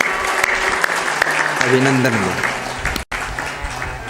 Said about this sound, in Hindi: एक बार ताली बजा दो आरआई साहब के